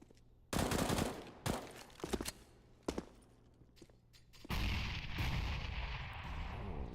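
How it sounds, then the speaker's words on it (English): Grenades are thrown and detonate in a CS:GO match, heard as a loud blast followed by sharp thuds and pops, then a second heavy explosion that trails into a long rumbling roar. "Nades being deployed."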